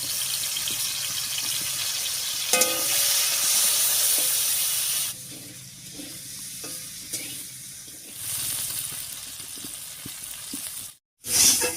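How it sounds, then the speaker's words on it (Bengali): Steady hiss of fish frying in hot mustard oil in a wok, with occasional stirring scrapes; the sizzle drops back briefly midway, then swells again before a short cutoff. "এবারে কড়াইয়ে সর্ষের তেল দিয়ে ভেজে নেব"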